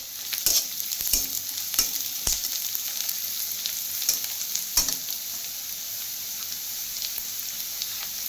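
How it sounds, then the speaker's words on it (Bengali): Onions fry in oil to a golden brown, a continuous close sizzle with a few sharp scraping stirs of a spoon in the pan, loud and alone throughout. "পেঁয়াজটা পুরো ভাজা ভাজা হয়ে গেছে"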